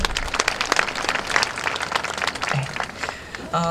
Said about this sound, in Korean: 감사의 박수 한번 부탁드립니다.